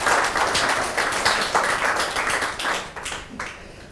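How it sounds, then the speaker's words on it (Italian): A studio audience at an Italian medical talk show welcomes a guest with warm applause, a close, fairly loud burst of clapping with individual claps audible that thins out and fades toward the end. "che io accoglierei con un applauso"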